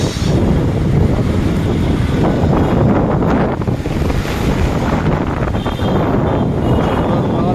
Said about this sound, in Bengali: দেখুন বাতাস